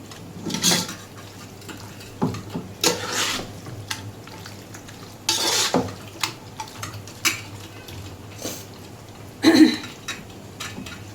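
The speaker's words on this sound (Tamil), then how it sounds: "இப்போ கிளறி நம்ம செட் பண்ணிக்கலாம்." A spoon or ladle stirs chicken dum biryani in a pot, giving intermittent scraping knocks and clinks at an irregular pace, moderately close and fairly quiet.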